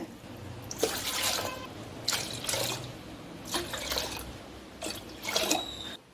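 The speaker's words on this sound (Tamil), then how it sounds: "இதில் வந்து அஞ்சு டம்ளர் தண்ணி எடுத்துக்கலாங்க" Water poured from a tumbler into a cooking pot for Amman koozh porridge, heard as four separate splashing pours with short pauses between them, fairly quiet and with no talking.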